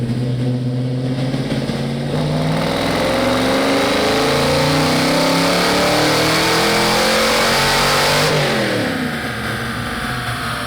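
A supercharged Fox Body Mustang with a Vortech V3 blower runs on a chassis dyno, its engine revving in a long loud climbing pull with rising whine, then cutting off sharply and dropping back.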